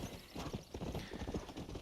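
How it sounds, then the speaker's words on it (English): Horse hooves clip-clop at a steady trotting rhythm in the Red Dead Redemption video game, close and continuous with no voices. "Rob, we're back on the horse."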